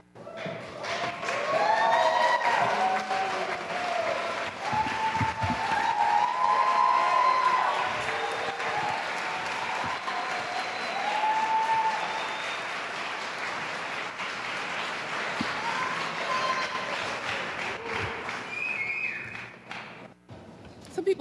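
Audience at a Toronto mayoral candidates' debate applauding and cheering, a sustained wash of clapping with scattered whoops and shouts that holds steady for about twenty seconds before easing near the end.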